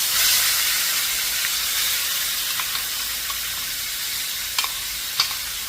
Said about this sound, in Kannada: ಇಂಗುನ ಸ್ವಲ್ಪ ಚೆನ್ನಾಗಿ ಹಾಕ್ಕೊಳ್ತಿದ್ದೀನಿ ಅದು ಚೆನ್ನಾಗಿ ಫ್ರೈ ಆಗಿದೆ ಸೊ ಈಗ ನಾನು ಈ ಚಟ್ನಿನ ಇದ್ರಲ್ಲಿ ಹಾಕ್ಕೊಳ್ತೀನಿ